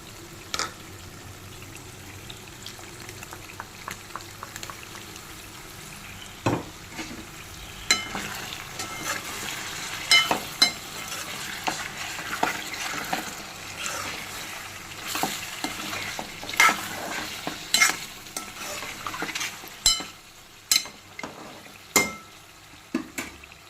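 Ginger garlic paste frying in a pan for a home-style mutton curry with drumsticks, stirred steadily: a continuous soft sizzle broken by frequent scraping clicks of the spoon against the pan, close and moderately loud, with no voices.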